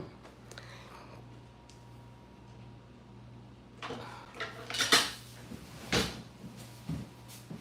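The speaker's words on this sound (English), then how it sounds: "I was cutting butter" A knife cutting butter for children's biscuits gives a few sharp clinks and scrapes of metal on a dish. They come close together after a stretch of quiet room hum with a low steady drone.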